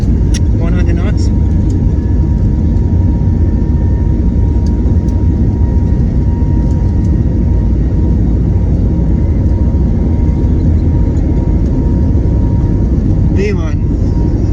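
Engines of an A321neo airliner roar steadily and loud throughout the takeoff roll departing Seattle, a dense low rumble with faint brief clicks and rattles near the end.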